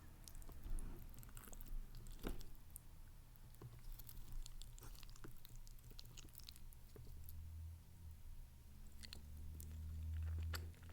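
Close, quiet chewing and biting of vegetarian lasagna topped with cheese, with soft moist mouth sounds and small crunches over a faint low background hum and no speech.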